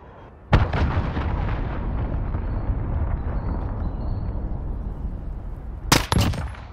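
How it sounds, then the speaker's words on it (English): A cruise missile explosion in Call of Duty: Modern Warfare opens with a sharp boom, then a long rumbling roar of game battle noise follows, and a second loud blast bursts near the end. "Enemy cruise missile incoming!"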